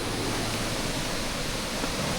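A swollen farm river rushing hard during heavy rain, a dense, steady roar of flowing water filling the scene with no voices.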